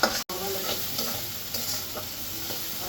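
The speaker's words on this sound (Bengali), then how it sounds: "একটু কষাবো ভালো করে খুব সুন্দরভাবে কষাবো" Curry being stir-fried and cooked down in a pan, with a steady close sizzle and repeated scraping strokes of the spoon throughout, broken by a brief dropout near the start.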